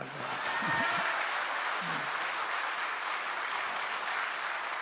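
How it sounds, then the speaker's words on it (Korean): Congregation clapping steadily at a church prayer rally in Paju, a dense, sustained wash of applause from a large crowd with a brief voice underneath near the start. "박수 쳐요. 박수 쳐"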